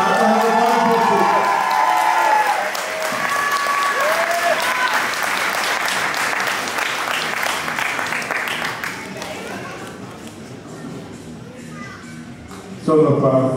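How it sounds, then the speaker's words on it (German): An audience at a bodybuilding contest applauds and cheers the winner of men's class 1. A loud, dense crowd ovation with shouts fades gradually as an announcer speaks over it, then swells briefly again at the end. "Großer Applaus für die Männerklasse 1."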